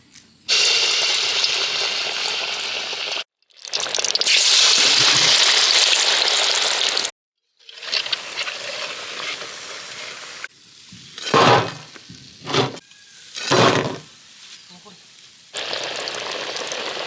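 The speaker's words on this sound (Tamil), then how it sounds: "இப்போ வந்து நம்ம வந்து வடையை தட்டி போட்டுக்கலாம்" Raw-plantain vadai frying in hot oil over a village-style outdoor fire, giving a loud, steady sizzle broken by brief gaps and a few clattering stirs and drops near the end.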